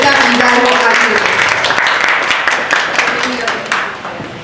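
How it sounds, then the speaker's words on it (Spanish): An audience at a talk on sexual transmission of HIV gives a speaker loud, close applause that gradually thins out, with voices heard over the clapping. "Por favor, un fuerte aplauso"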